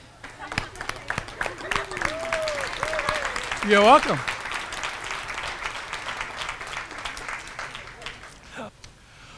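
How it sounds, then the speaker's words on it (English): At a university State of the University address, an audience gives a round of applause for someone's birthday. The clapping is moderate and steady, with voices speaking over it and a brief loud burst partway through. "You want to stand up and we'll give you a round of applause?"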